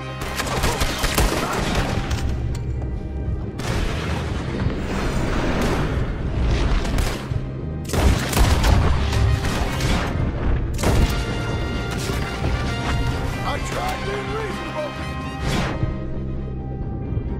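Heavy gunfire in the Red Dead Redemption 2 video game: repeated loud shots and rapid volleys crack over a dense, continuous roar of action for many seconds, with brief shouted voices mixed in.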